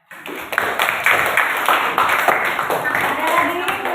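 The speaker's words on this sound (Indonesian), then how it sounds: "Tepuk tangan." Classroom hand clapping, a group of students clapping in a quick uneven burst, fairly close and moderately loud, with voices audible underneath throughout.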